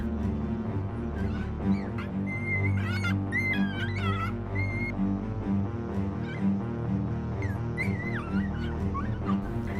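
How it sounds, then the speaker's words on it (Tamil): A distressed mother dog whimpers, yelps and whines repeatedly during an animal rescue, with high wavering cries over a dense, steady background of rumbling noise and a tonal hum. "இந்த பாச போராட்டத்தில் தாய் நாய் டானை கடிக்க முற்படுது."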